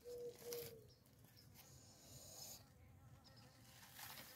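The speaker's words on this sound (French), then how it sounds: "Voilà le travail des abeilles." Bees buzz faintly among zucchini flowers in a vegetable garden, a thin intermittent hum against soft outdoor ambience with distant bird coos.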